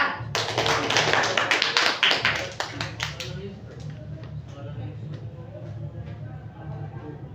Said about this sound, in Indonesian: Tepuk tangan buat Raihan.